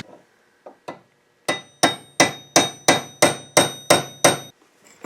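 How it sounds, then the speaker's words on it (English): A hammer strikes a punch against a metal tie rod clip on a 1998 Subaru Outback: a few light taps, then eight loud, evenly spaced ringing metallic blows close to the microphone, with no talking. "take your punch and hammer that little clip back there straight"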